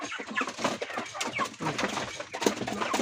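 Chickens cluck and call in a dense, continuous flock chorus at feeding time, several birds overlapping nearby with no pauses.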